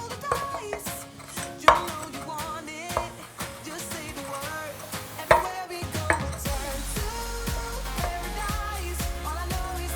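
Fresh parsley being chopped with a kitchen tool, a series of rhythmic close knocks and taps on a board with music playing underneath and a deeper rumble joining partway through.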